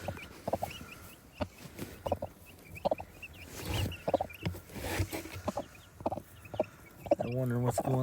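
Backyard chicks and chickens cluck and peep in short, irregular calls close by, repeating throughout with soft rustling and a little background noise.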